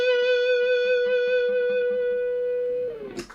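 A single sustained electric guitar note driven through an overdrive pedal rings out loud and steady with rich distorted harmonics, then bends and breaks off into a brief scrape at the end.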